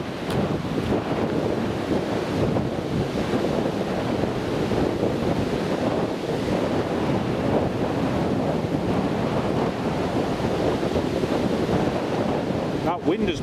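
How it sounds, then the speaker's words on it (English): Strong wind blows across an open airfield at Newcastle International Airport, a loud, continuous roaring rush with heavy gusting buffets against the microphone throughout. "Wind is picking up even further."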